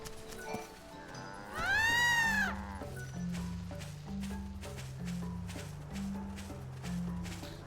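Sheep bleats in the video game Lightning Returns: Final Fantasy XIII, one loud wavering bleat near the start over a steady game music bed, with quieter sounds continuing behind.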